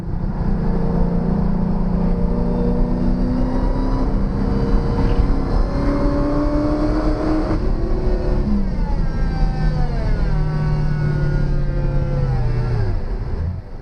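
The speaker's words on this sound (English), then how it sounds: "you're going to start to hear the supercharger pieces rattling around in the engine" A loud supercharged car engine drones and shifts pitch as it revs and slows on a track day, with a continuous mechanical whine and rattle from loose supercharger pieces running through it.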